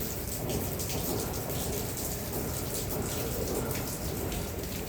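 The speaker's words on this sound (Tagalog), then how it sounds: "So medyo maulan ngayon, no? Maambon mga idol." Steady rain falls around an elevated stainless steel water tank on a drizzly day, a dense unbroken hiss of drops that stays constant and fairly loud throughout.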